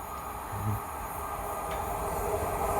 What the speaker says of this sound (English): Look how fast this train's going.